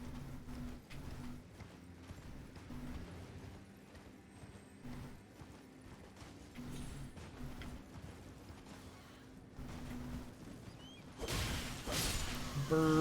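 Horse hooves clip-clop in a video game, a steady run of hoofbeats over a low background bed, ending in a louder, harsher burst of noise.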